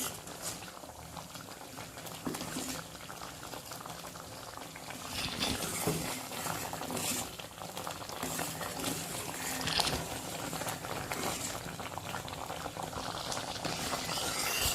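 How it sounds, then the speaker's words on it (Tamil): A pot of milk and sago payasam with jaggery boiling on the stove, a continuous low bubbling and popping that swells slightly, fairly quiet and steady. "நல்ல வெல்லத்தோடு சேர்ந்து கரைஞ்சி வந்து நல்ல ஒரு கொதி வந்து வெல்லம்லாம் நல்லா கரையணும்."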